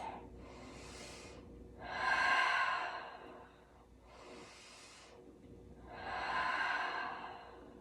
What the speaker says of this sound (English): watch the belly rise and fall with the breath